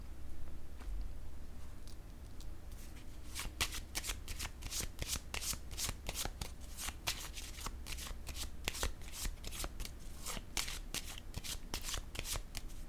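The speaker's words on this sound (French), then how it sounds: "Je vais déposer une carte ici." Tarot cards handled and laid down on a table, a long run of crisp, rapid papery snaps and flicks, close and steady, with no talking.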